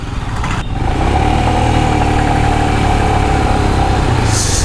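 A Royal Enfield Himalayan BS6 motorcycle engine runs steadily up close, a loud continuous idle-like drone with a faint whine and no talking over it.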